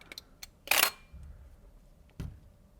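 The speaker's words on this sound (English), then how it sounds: "as I wind the camera here, the shutter opens" A Hasselblad 500C/M film camera is wound, with a few light mechanical ticks, then a sharp, close clack as the shutter opens, and a second crisp click a moment later.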